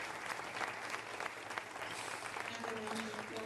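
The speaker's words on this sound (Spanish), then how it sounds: "Por favor, un aplauso para los panelistas." Audience applause for the panelists at the close of a panel session at a conference, a steady dense clapping from a crowd throughout, moderately distant with a faint tone and murmur underneath.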